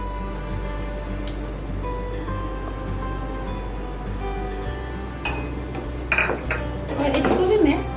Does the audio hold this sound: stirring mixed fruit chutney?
yes